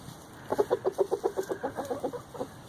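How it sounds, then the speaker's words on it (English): A run of low, rhythmic clucks from a large Dominique rooster, about a dozen evenly spaced calls, close by and moderately loud, with no talking. "That is one big Dominica rooster right there."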